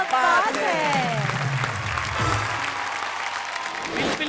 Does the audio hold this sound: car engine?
no